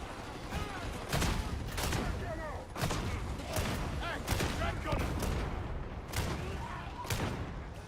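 Gunfire and explosions in the video game Warhammer 40K Darktide: rapid bursts of shots and booms repeat through a dense, loud battle, with a voice speaking over parts of it.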